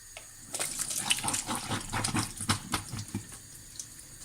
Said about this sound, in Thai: เป็นหน่อไม้ที่เราต้มฆ่าเชื้อโรคไว้เนาะ ตั้งแต่ปีที่แล้ว ไปเทเอาน้ำออก